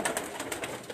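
Pigeons coo in a loft, a soft cluster of repeated pulsing calls, close and steady with no talk over them.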